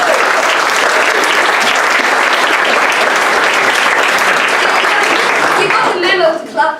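A crowd applauding steadily and loudly, dense clapping filling the room, tapering off near the end.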